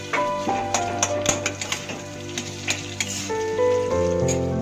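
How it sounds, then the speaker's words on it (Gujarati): Edible gum (gundar) fries in ghee, giving a loud, close crackling sizzle dotted with quick pops and ticking clicks as it puffs, with a faint steady hum beneath. "જો આપણે આ પાછું ઘી નાખીશું."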